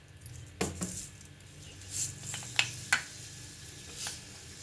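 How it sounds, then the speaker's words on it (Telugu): Fenugreek seeds tipped into two spoons of hot oil for a tempering, giving a soft sizzle with a few sharp clinks of a spoon against the pan, close and without talk. "మెంతులు వేస్తున్నాను,"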